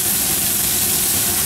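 Onions and celery sautéing in hot oil in a pan, a steady, loud broadband sizzle and hiss with no breaks, close up and alone.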